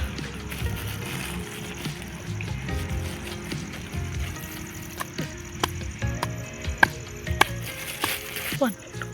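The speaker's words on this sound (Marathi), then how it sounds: "आता आपण ह्या सगळ्या मातीची ढेप फोडूया, बारीक करूया" Clods of soil are broken up and crumbled by hand while preparing ground for growing fenugreek, giving close, crackly scraping and gritty rustling with a few sharper knocks.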